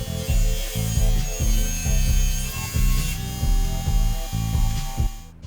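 DIY prototype table saw ripping a board, a loud close buzzing cut that pulses in a rapid, even rhythm for several seconds before the blade winds down.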